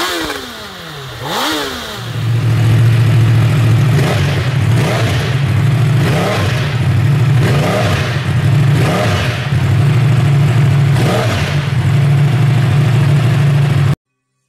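Inline-four motorcycle engine, compared with a Honda CBR1000RR, first revs sharply, then settles into a loud, steady drone with rhythmic swells as the throttle is repeatedly blipped.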